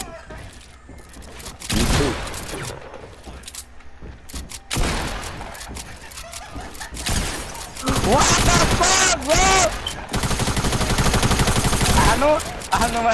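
SMG gunfire in Fortnite, rapid bursts of shots that come in loud clusters, with the densest sustained firing near the end over quieter stretches of game sound.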